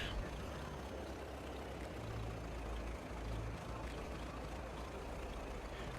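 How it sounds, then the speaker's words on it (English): Dirt car racing engine in the video game Farming Simulator 22, a steady, heavy rumbling engine drone with a constant low growl throughout, fairly loud with no clear revving changes. "Just doing some dirt car racing."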